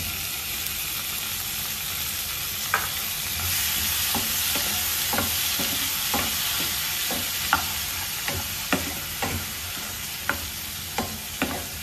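Green chillies and a large tomato frying in oil for cucumber chutney, with a steady sizzle and hiss under a string of sharp scraping and clinking stir strokes from a spoon against the pan.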